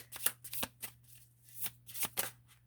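Tarot cards being shuffled by hand, with a series of quick, crisp riffling bursts and soft slaps close up, separated by short pauses.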